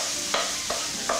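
Vegetables, pancetta and a sprig of rosemary sizzle softly on low heat in a pan, stirred with three evenly spaced scraping strokes, close up with no voices.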